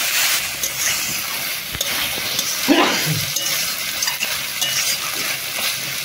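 Spiced water is poured into a pan of frying sorshe potol (pointed gourd in mustard), giving a close, loud, steady sizzle with a brief splash midway and occasional clinks of stirring.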